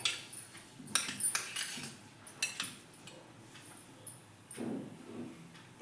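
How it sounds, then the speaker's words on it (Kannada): Spoon stirring tomato sauce into chutney in a bowl, giving light, irregular clinks and scrapes against the dish, fairly quiet and close, with no talking. "ಈ ಚಟ್ನಿಗೆ ನಾನು ಸ್ವಲ್ಪ ಈ ಟೊಮೆಟೊ ಸಾಸ್ ಇರುತ್ತಲ್ವ, ಆ ಟೊಮೆಟೊ ಸಾಸ್ ಸ್ವಲ್ಪ ಮಿಕ್ಸ್ ಮಾಡಿ ಅದನ್ನ ಕಲಿಸ್ಕೊಳ್ತಾ ಇದ್ದೀನಿ"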